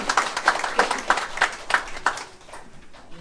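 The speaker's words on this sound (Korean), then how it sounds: "참가해주신 분들 서로 응원의 박수 주시면 감사하겠습니다" Participants at a book launch for a memorial webtoon clap for one another: a short burst of brisk, fairly close applause with distinct individual claps that fade out after about two seconds.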